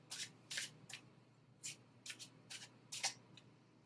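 Tarot cards shuffled and handled during a pick-a-pile reading: a run of crisp, papery riffles and slaps in short bursts, close and fairly quiet, with no talking.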